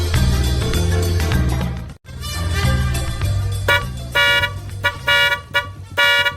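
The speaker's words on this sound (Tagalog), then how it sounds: "Ay nagpiksa mo ti panagbusina mon pare." Car horn honking loudly and repeatedly, a few long blasts followed by a string of short, rhythmic toots, close by and over engine and street noise.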